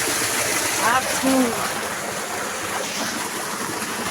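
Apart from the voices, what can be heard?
spring water stream flowing down from forest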